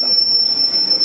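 A train running steadily at a station, with a continuous rumble and a sustained high metallic squeal of wheels on rails throughout.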